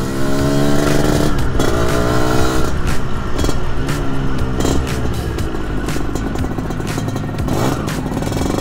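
A 1991 Yamaha RXZ two-stroke motorcycle engine runs loud and close, revving steadily with rising and falling pitch and a rattly, buzzing tone throughout.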